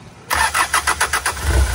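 Hyundai Starex GRX van engine cranking and catching after a starting problem: a rapid rhythmic starter churn of about seven pulses, then the engine firing into a low rumble, loud and close.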